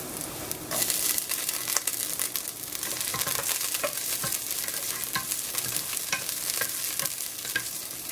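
Ginger, garlic and green chili roasting in hot oil in a pan, a loud close crackling sizzle with frequent scraping stirs throughout, no voices.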